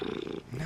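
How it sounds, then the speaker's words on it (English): A cat purrs close up in a brief, rough, pulsing rumble that wavers in pitch. "number 10 on the list for the most soothing sounds, a cat purring."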